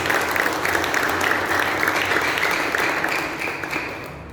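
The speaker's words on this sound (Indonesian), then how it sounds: "Tepuk tangan ini." A crowd claps steadily and loudly throughout a theology college graduation ceremony, a dense wash of applause that thins slightly toward the end.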